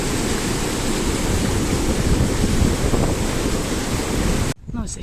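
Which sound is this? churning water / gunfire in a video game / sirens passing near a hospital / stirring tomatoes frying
churning water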